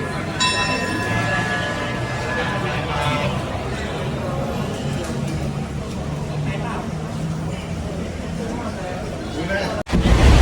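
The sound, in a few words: ordinary train No. 201 departing Ayutthaya station, departure signal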